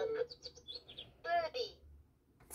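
A VTech Turn and Learn Driver toy steering wheel gives a short electronic bird chirp, a bright warbling burst in the middle of a brief stretch of synthetic toy tones, close and moderately loud.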